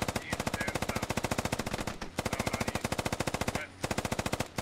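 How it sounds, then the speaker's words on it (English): Several guns open up in the Squad video game with rapid, sustained automatic fire, a dense rattle of sharp bursts with two brief pauses, heard loud and fairly close. "We got shot at by like three different guns."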